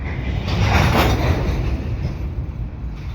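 A CN potash unit freight train rolls past at speed, a broad, loud rumble that swells and then holds steady with a faint rail hiss.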